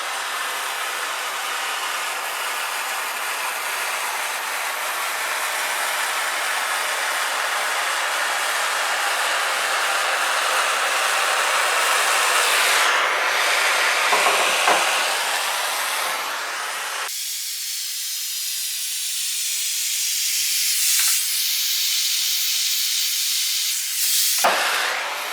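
Torch flame roaring steadily as heat scorches the edges of a wooden American flag, a continuous loud hiss that swells and briefly cuts out a few times, with no talking.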